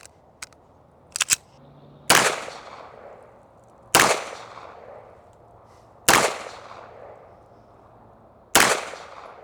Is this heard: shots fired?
yes